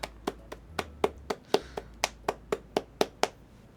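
A run of about a dozen sharp, evenly spaced hand claps, close and distinct with short decays, over a faint low hum.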